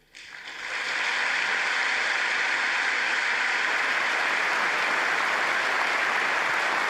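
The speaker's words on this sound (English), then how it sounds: "People are clapping." A Congress audience breaks into applause for Netanyahu's speech, quickly swelling from a few claps into a loud, sustained ovation that stays steady without any talk.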